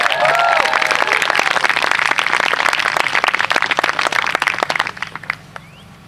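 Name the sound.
round of applause for the next speaker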